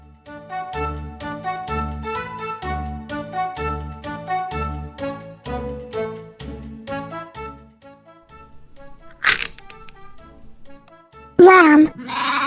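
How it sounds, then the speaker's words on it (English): A sheep or lamb gives a brief, wavering bleat near the end, following a long stretch of bright, bouncy children's music. "A baby sheep is called lamb."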